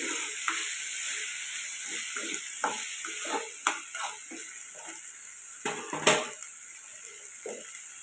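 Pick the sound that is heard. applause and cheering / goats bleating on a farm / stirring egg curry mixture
stirring egg curry mixture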